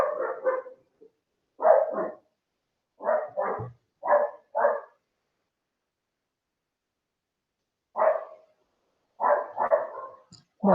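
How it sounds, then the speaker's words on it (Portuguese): A pack of dogs barks outside a window in repeated short bursts, several sharp barks per burst separated by pauses, loud and fairly close. "senão a cachorrada vai ficar latindo."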